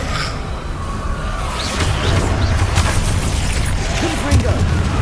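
Spell explosions from Confringo casting in the video game Hogwarts Legacy: a series of dull booms and bursts over a rumbling game soundscape, with a voice speaking throughout.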